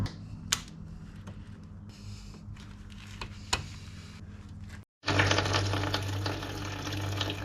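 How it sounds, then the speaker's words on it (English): Coolant drains from the radiator of a Mercedes W213 E-Class, a steady trickling and splashing close by that swells to a louder, fuller gush partway through, alone without talk. "That radiator is draining."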